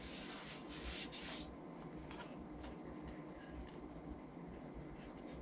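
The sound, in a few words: smoothing the outside of a clay pottery dog bowl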